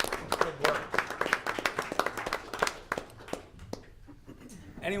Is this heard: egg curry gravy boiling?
no